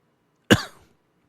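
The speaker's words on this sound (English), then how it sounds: "Excuse me for coughing." One sharp, close cough, sudden and loud, that fades quickly into quiet.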